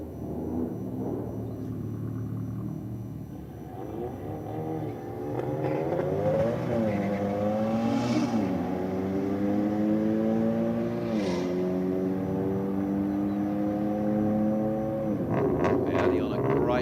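Audi and a VZ Commodore making a drag racing pass at Sydney Dragway, a loud engine roar rising through repeated gear changes with long climbing revs, steady and close for most of the run.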